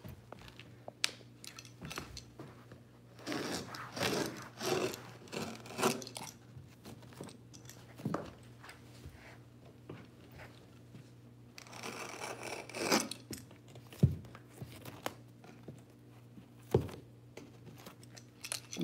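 A blade trims the edge of newly installed carpet in a room, giving repeated close scraping and rasping strokes with sharp cutting ticks, irregular in rhythm and steady over a low background hum.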